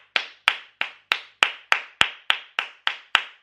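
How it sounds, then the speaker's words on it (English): A single person claps their hands hard and loud, eleven sharp, evenly spaced claps in a steady rhythm, close to the microphone with no talking. "how loud is my clap?"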